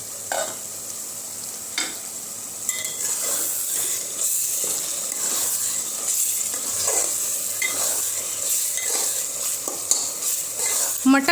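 Masala for mutton keema frying and being stirred in a pan, a steady close sizzle with repeated scraping stir strokes and light clinks of the spoon against the pot throughout.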